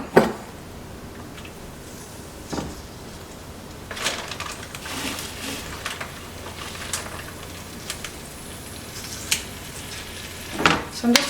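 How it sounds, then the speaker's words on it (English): Marinated meat frying in hot oil in a pan, a steady crackling sizzle with occasional clinks and scrapes of utensils against the pan. "We're gonna go ahead and get some oil in our pan and heat it up."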